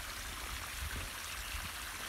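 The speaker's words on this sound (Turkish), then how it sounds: "salma sulamasını yapıyoruz." Tap water running steadily into a home garden for flood irrigation, a continuous close trickling and gurgling flow with no voices.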